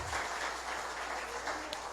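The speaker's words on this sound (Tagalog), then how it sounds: "pumalakpak sa Panginoon." A church congregation applauds in praise, producing soft, steady clapping at a distance, faint and continuous with a faint room echo.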